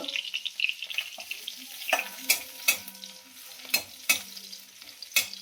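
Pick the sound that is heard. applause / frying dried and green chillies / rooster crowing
frying dried and green chillies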